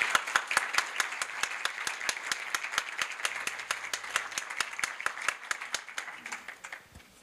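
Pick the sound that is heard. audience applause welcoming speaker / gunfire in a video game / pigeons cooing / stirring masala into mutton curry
audience applause welcoming speaker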